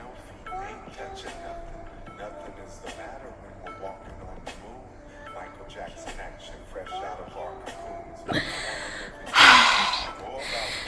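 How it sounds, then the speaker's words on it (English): Rapid rhythmic pumping breaths through the nose during a breath-of-fire exercise in a yoga and meditation session, steady and close, ending in a louder forceful exhale near the end. "I usually do like 10 pumps for every breath. So you're gonna do 3 minutes. So in, exhale out,"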